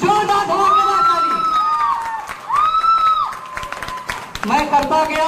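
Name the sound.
audience applause and cheering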